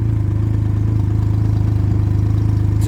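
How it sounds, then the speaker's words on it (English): A Can-Am Ryker three-wheeled motorcycle idles right after starting, a steady close engine throb with a regular rhythmic pulse and no talking. "And as you can see, the bike starts."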